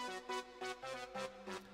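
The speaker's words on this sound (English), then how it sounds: "it's polysynth brass." Polysynth brass patch playing a grime melody: a run of short, bright, stabbing synth notes in a choppy rhythm, alone and fairly loud.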